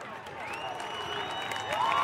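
Crowd at a UCLA vs Washington college soccer match applauding and cheering in a steady, distant wash of clapping that swells slightly toward the end, with commentary voices running over it.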